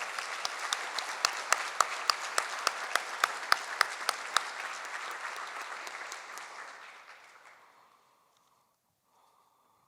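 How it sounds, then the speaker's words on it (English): Audience applause at a Governors State University convocation for award winners and a singer: dense, steady clapping with a few sharp claps standing out, sustained for several seconds before fading out and ending in silence. "Let's give them all a round of applause"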